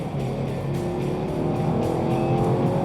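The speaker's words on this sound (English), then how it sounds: "The sound of the Boxer 4 in the WRX is distinctive" A 2020 Subaru WRX turbocharged boxer four engine drones loudly and steadily with a rough, throbbing hum, holding a constant pitch with no pauses.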